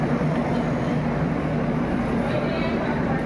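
A train stands at Jolarpettai railway station with a steady, loud low rumble and broadband hum running throughout, with no clear individual events.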